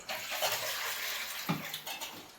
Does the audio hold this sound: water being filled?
yes